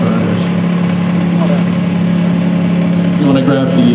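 Diesel engine of a mastic melter machine, which also fires diesel burners, runs at a steady loud idle with a constant low drone and no letup from start to end.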